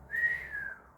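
A person attempts a whistle, producing a thin, breathy tone that wavers and breaks off, then briefly resumes more faintly, heard alone in a quiet room.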